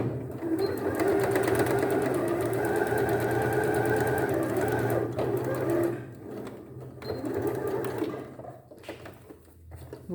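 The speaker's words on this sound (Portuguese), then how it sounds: "então a gente vai costurar aqui, vou terminar, vou dar um retrocesso" A sewing machine runs steadily as it stitches a gathered sleeve with elastic, a continuous close mechanical whir for about six seconds, then shorter bursts as the seam is backstitched and finished.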